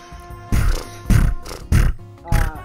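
Four evenly spaced, punchy mouthed bursts, each about a quarter second long, imitate an MP5 submachine gun from Call of Duty, loud and close with faint background in between.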